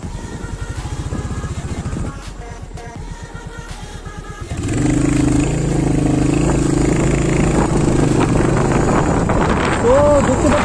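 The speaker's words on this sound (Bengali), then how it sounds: "একদম খুব স্মুথলি বাইক চলছে" A Royal Enfield Hunter 350 motorcycle is ridden at speed, its engine drone rising and holding steady as wind buffets the microphone. Engine and wind noise grow louder and more constant partway through.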